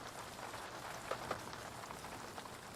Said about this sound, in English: Rain like this will keep desert plants alive through 10 years of drought